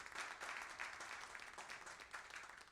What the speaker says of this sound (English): So a round of applause again for both of them.